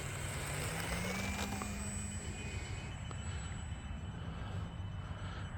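An E-flite UMX Air Tractor RC model airplane takes off outdoors late in the day, a steady high electric motor whine holding over constant broadband wind and background rumble, fairly near and even throughout.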